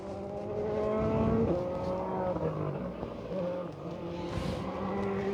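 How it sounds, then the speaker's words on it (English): A turbocharged rally car on a forest stage at the Oregon Trail Rally, its engine note rising and falling as it approaches, heard at moderate distance against outdoor ambience. "Another turbo car coming up here, it sounds like."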